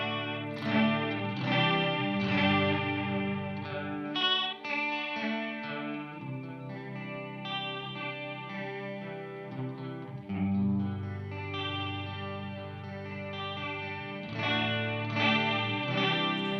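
An electric guitar plays chords through a stereo chorus pedal at high intensity, the swirling shimmer thick and continuous throughout.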